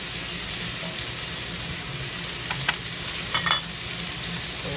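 Onions, celery and carrots saute in a pan for Irish stew, giving a steady close hiss and crackle throughout with a few faint clinks and scrapes near the end.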